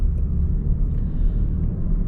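Steady low engine and road rumble fills the cabin of a Land Rover Defender 130 on the move, a continuous droning hum with no talk over it.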